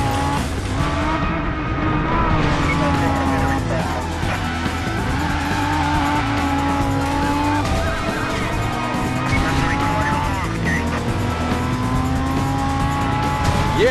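An Audi R8 V10 roars continuously through a police chase in the driving game Driver: San Francisco, engine loud and close with repeated tire squeals and skids layered over the constant drone.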